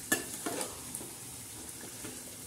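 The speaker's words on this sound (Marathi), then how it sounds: "आता हे आपण मस्त आता हलवून फ्राय करून घेणार आहे." Yellow chicken curry being stirred and fried in a pan, with a faint steady sizzle and a few soft spoon scrapes, no talking.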